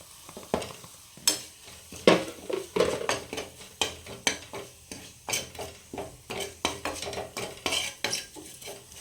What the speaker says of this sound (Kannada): ಗಾರ್ಲಿಕ್ ಎಲ್ಲ ಸ್ವಲ್ಪ ಫ್ರೈ ಆಗಲಿ.